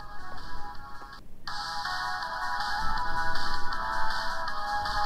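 A phone ringtone in The Closing Shift horror video game, a bright, melodic ringing tone that repeats steadily, briefly cuts out near the start, then carries on clearly and alone.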